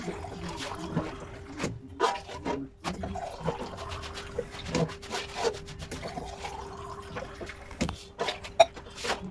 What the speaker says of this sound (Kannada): ಇದರಲ್ಲಿ 8 ಗ್ಲಾಸ್ ನೀರು ಹಾಕಬೇಕು